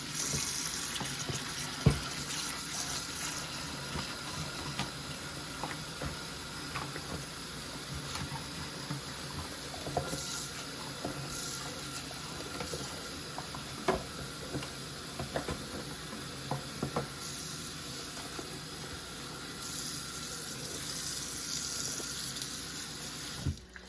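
Silicone molds are scrubbed under a running tap in a sink, a steady close rush of water with intermittent scraping, bumping and splashing as the molds rub against the sink base.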